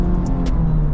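Honda Civic Type R FL5 on the road, a steady low engine drone with faint higher whooshes, close and continuous with no talk.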